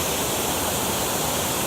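A waterfall rushes in a continuous, loud, dense wash of white noise with no breaks, close and steady, with no voices.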